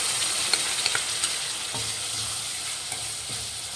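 Tamarind pulp frying in a pan for temple-style puliyogare while being stirred, giving a steady close sizzle with a few soft scraping knocks from the stirring, no voices.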